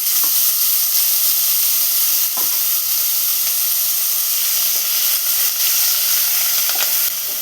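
Sliced onions frying in coconut oil with mustard seeds in a home kitchen pan give a loud, steady sizzle and hiss that runs unbroken throughout, with no talking.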